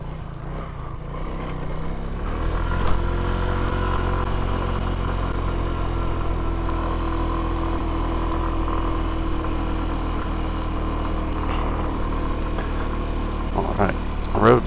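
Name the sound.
motorcycle riding through a neighborhood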